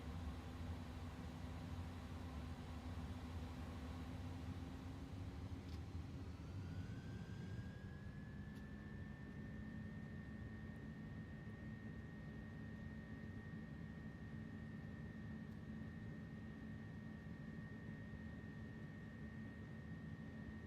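Airbus A300-600 jet engines in Flight Simulator 2024 drone steadily at takeoff thrust, a low roar with a whine that climbs and then holds, heard from the cockpit with no talking.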